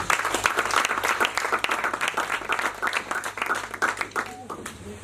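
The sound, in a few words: congregation applauding in church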